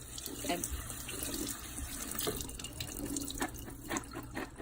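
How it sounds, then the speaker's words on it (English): Canned kidney beans rinsed under a running kitchen tap, a steady broadband rush of water into the sink with small splashing surges, close and continuous throughout. "we have to pour off the juice that the kidney beans are in and also rinse them"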